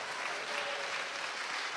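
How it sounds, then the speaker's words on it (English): Applause from a theater audience fills a grand old house, a steady dense wash of clapping heard from within the hall, fairly even in loudness throughout with no distinct voices over it. "Give it an applause for this gorgeous house."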